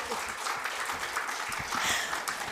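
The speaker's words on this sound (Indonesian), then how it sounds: "Tepuk tangan buat aku." An audience at a church sermon claps together in steady, dense applause that fills the whole stretch at moderate volume, with no voice on top.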